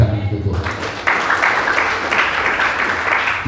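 A church congregation claps for God during a sermon, a sustained, fairly loud burst of many hands that swells shortly after the start and carries on evenly to the end.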